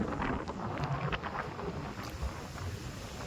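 Steady roaring wind buffets the microphone, a continuous broadband rush with gusty swells and no voices.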